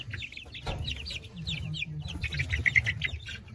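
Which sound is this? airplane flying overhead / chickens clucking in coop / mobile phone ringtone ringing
chickens clucking in coop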